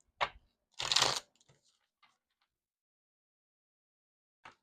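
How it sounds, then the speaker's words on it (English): Tarot cards being shuffled by hand in two quick, close riffling bursts, followed by a faint tap of the deck a few seconds later amid quiet. "If I can freaking shuffle these cards."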